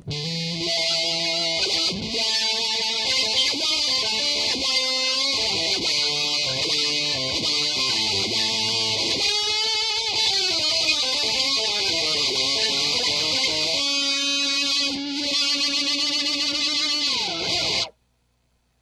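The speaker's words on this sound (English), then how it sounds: "it's a really crazy wah that you can do a lot with" A heavily processed guitar tone through an Electro-Harmonix HOG harmonic octave generator synth pedal with a sweeping wah filter, notes gliding and shifting continuously for about seventeen seconds, then cutting off abruptly.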